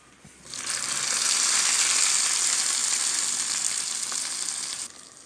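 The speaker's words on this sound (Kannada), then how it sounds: "ಮತ್ತೆ ನಮ್ಮ ಒಗ್ಗರಣೆ ಪಾಡ್ಗ" A tempering for mint chutney hits hot oil and bursts into a loud, steady sizzle that rises abruptly, holds for several seconds, then cuts off, with no talk over it.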